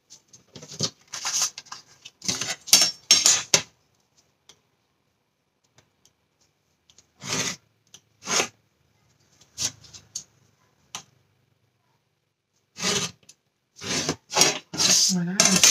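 A pen pressed hard along a ruler to score paper for folding, heard as short dry scraping strokes in quick bursts separated by silent pauses, close and moderately loud.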